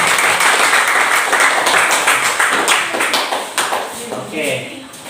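A classroom group applauds another student group after a presentation, many hands clapping in a steady burst that thins and fades toward the end.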